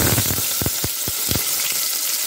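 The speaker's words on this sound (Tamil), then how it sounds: "இது நல்லா வந்து பொரியட்டும்." Whole spices sizzling in hot oil while cooking a kuska rice dish: a constant crackling fry, close by, with a few dull stirring knocks against the pan.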